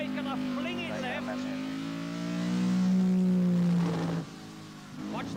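Nigel Mansell's rally car on a tarmac rally stage accelerating hard, the engine note rising and swelling loudly before dropping off abruptly, with a commentator talking over it throughout.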